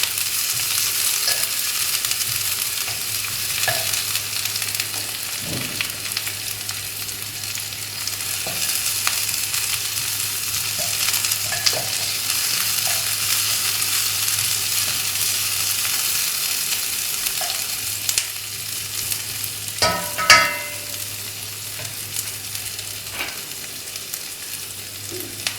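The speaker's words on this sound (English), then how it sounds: "stir fry this for a little while until the onion is a little bit soft" Onion and garlic stir-fried in a pan for Malaysian Maggi goreng, a steady close sizzle with scattered clinks and scrapes of stirring, one busier burst of stirring late on, no voices.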